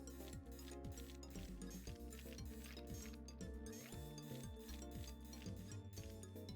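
A steady mechanical whirring and grinding, like a small drill scraping at something hard, with rhythmic ratcheting clicks throughout: a drill cleaning a fossil in the video game Fossil Fighters.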